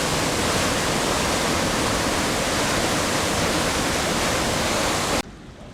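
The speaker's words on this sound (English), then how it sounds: "There it is. Flowing pretty good. A little bit of white water." Rushing white water in a river below a dam gives a dense, steady roar of flowing water that fills the whole sound, close and loud, before it suddenly drops away near the end.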